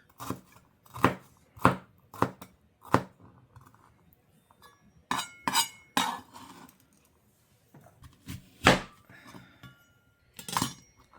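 Sharp MasterChef knife slicing a peeled vegetable on a cutting board, giving crisp, separate chopping knocks in irregular bursts with short pauses between runs of cuts.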